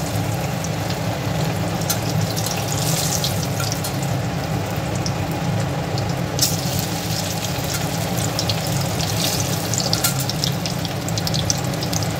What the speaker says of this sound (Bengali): এইভাবে আমি কোপ্তাগুলোকে লাল লাল করে ভেজে নেব।